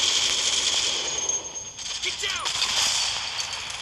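Rapid gunfire from a WW2 video game, a dense burst of shots running steadily through the whole stretch at close, loud level, thinning briefly midway before picking up again.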